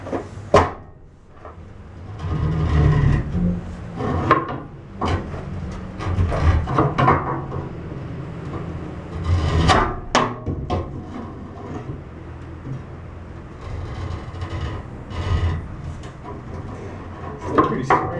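Bent metal being pried with a jack: irregular clanks, knocks and scraping bumps continue close by, with a few sharper metallic hits standing out among the rattling.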